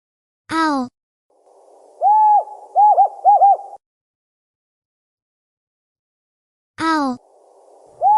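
An owl gives a series of soft, low hoots, one hoot then a quick cluster of three, close and clear, set between brief spoken announcements.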